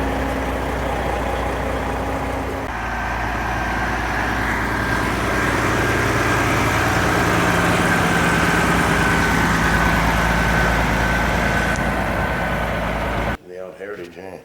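A 12.7-litre diesel engine in an old Western Star truck pulls out of a lot, its loud, steady low rumble and drone continuing for about thirteen seconds before cutting off abruptly.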